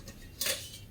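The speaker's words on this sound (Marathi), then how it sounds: "गॅस जळयता." A kitchen gas stove is being lit: a single sharp igniter click and hiss burst, faint and close, in a quiet room.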